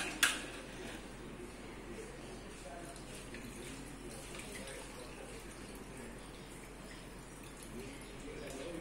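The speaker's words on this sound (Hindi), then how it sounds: "अब इस पानी को नथार देंगे।" Water drained off soaked wheat while making nishasta in a village kitchen, a steady splashing, trickling pour that carries on evenly throughout, fairly close.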